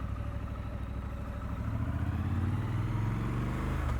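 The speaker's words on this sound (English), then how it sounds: "the bike's pulling away on its own." A 2021 Triumph Scrambler 1200 XE motorcycle creeps away on its own in first gear, its low engine rumble pulsing steadily and swelling slightly louder midway, close and without talk.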